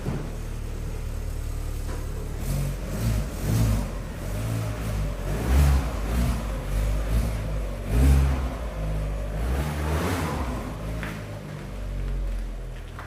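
A car sets off for a test drive after cheap repairs with third-party parts, its engine rising and falling through several revving surges over a steady mid-pitched drone, fairly close and continuous.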